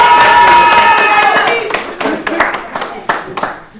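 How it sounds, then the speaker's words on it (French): Guests applaud at a French civil wedding ceremony right after the vows: close, lively group clapping that follows a sustained tone, then breaks into separate sharp claps tapering off. "Et là, vous pouvez applaudir."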